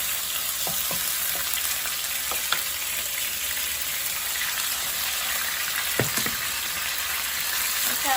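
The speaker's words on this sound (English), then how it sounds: "when you think your oil is hot already, then put in your meat," Pork pieces frying in hot oil over steady heat, a constant dense sizzle with a few sharp pops and crackles scattered through, close and alone with no talk.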